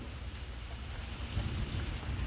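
Heavy rain pours steadily during a thunderstorm, heard from a front porch as a dense, continuous hiss with low rumbling underneath that swells slightly toward the end.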